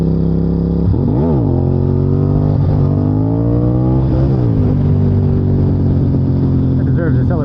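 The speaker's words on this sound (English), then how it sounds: "That deserves a celebratory wheelie." Motorcycle engine revving hard during a wheelie, close and loud, with rising and falling pitch sweeps over steady wind roar.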